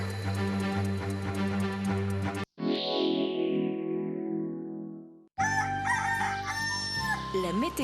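A rooster crows loudly and alone in a French television jingle for free-range Gers farm chicken, the call swelling then trailing off, framed by bright musical passages before and after.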